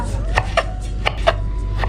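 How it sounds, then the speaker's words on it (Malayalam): A knife chops curry lemon (karinaranga) on a board in a home kitchen, five or six crisp evenly spaced cuts close by, with faint background hum and no talk. "ഇപ്പം ഞാൻ കറിനാരങ്ങ അരിയാൻ പോവാണ്."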